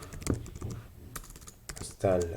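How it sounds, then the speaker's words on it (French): Someone types a pip install command in a computer terminal, with quick keystrokes clattering on the keyboard in short runs and a voice talking over them. "je vais taper pip install"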